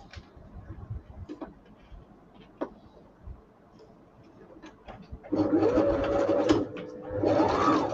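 A sewing machine stitches fabric, with quiet handling clicks and taps at first, then two close, loud bursts of rapid rhythmic stitching, the second after a brief pause.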